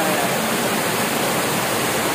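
A mountain waterfall roars without a break, a loud, even wash of falling water that holds steady throughout with no voices over it.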